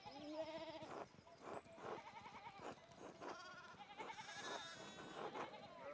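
Sheep bleating in the video game Pentiment, several overlapping bleats from a flock in a steady chorus, fairly close, with a voice speaking faintly underneath.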